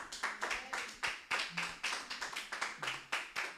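A church congregation claps in a rhythmic series of sharp, distinct claps with a fairly quiet, slightly distant sound and occasional faint voices beneath.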